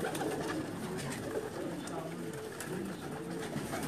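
Pakistani pigeons on a rooftop loft in Jeddah, with soft repeated cooing running steadily through a busy, noisy background.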